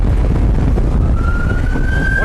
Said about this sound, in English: it's cop. just running siren, no lights.